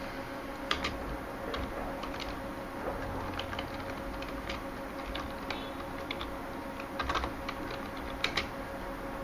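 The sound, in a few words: typing on computer keyboard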